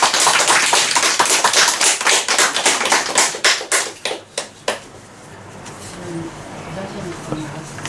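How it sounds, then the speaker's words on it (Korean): Audience at a filial piety education presentation clapping loudly and densely, the claps thinning into a few scattered final claps before fading into quiet room tone with faint voices. "열심히 좀 잘해달라는 의미로 박수 한번"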